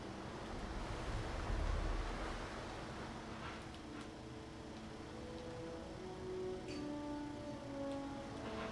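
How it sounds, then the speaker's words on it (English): Waterfall in the video game Jurassic World Evolution 3, a steady dense rush of falling water that holds at even loudness throughout, with faint soft tones appearing toward the end. "waterfall."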